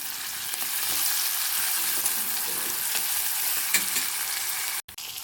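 Ginger garlic paste and turmeric fry in a hot pan while being stirred, giving a loud, steady close sizzle with soft stirring scrapes throughout and a brief break near the end.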